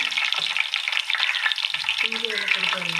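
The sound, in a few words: food frying in hot oil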